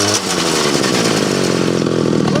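A chainsaw engine fitted with an upgraded carburetor powers a homemade drift trike. It runs loud and close in a raspy, buzzing drone, with the revs climbing and holding steady and no talk over it.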